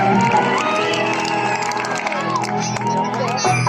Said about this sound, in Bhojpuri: तालियों में कंजूसी ना हो, जोरदार तालियां हो जाए